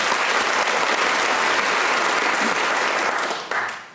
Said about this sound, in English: Ladies and gentlemen, round of applause for Ben, please.